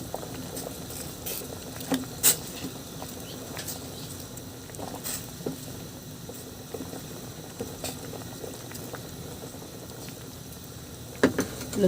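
Taro and string beans boil in a pot, giving a steady bubbling wash of liquid with scattered louder pops and splashes throughout, moderately near and without any talk.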